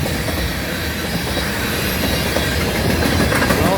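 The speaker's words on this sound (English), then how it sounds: "This train is moving too." A southbound manifest freight train, led by a CN ES44AC and an NS AC44C6M, rolls close by with tank cars and hoppers in its consist, making a loud, continuous rumble and clatter of wheels with faint squeals over the steady roar.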